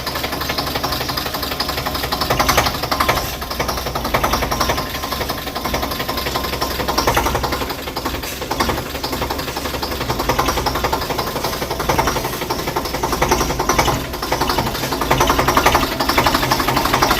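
A tractor engine runs steadily close by, a loud continuous mechanical drone with a rapid rattling beat that holds even throughout.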